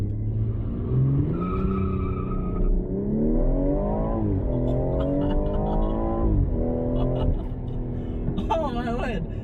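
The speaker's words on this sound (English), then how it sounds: "this thing literally spins its tires in launch control mode." A 2019 BMW M240i engine revs hard in rising sweeps during a launch control start while tires spin and squeal, with a brief high screech near the end; people talk excitedly over it.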